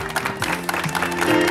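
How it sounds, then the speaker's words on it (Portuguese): A short burst of clapping from a group, rising slightly in loudness over a moment. "Uma salva de palmas, galera!"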